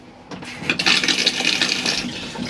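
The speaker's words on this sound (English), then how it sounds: "spray the bowl, then flush" A cassette toilet flushing inside a Chausson Flash 14 caravan, a close rush of water swelling quickly after a few small clicks, then washing steadily before tapering off.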